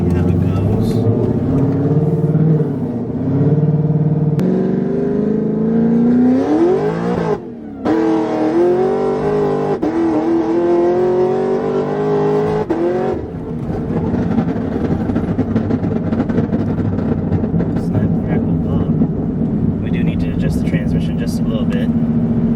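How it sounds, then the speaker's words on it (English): A car with a freshly rebuilt transmission is test driven, its engine loud and near as it revs and climbs through gears with rising and falling pitch, breaking briefly at a shift, then settling into a steady cruise drone with voices over it. "We're taking our freshly rebuilt transmission on a test drive"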